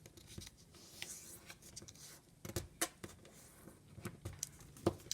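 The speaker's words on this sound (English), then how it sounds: "take the corners and fold them in almost to the middle" Sheet of paper being folded by hand into an origami Twi'lek, with soft crinkles and sharp creasing rustles scattered across the moment, close and fairly quiet, no talking.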